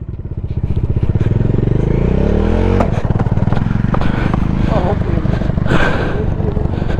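A motorcycle on a rough off-road track revs loudly and close, the engine note climbing steadily as gears are worked, with a clattering mechanical drone and people talking over it.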